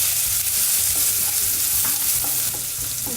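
Tomato fries and gets stirred into browned onions in a pan for ridge gourd chutney, producing a dense, close sizzle broken by quick scraping strokes of the spoon.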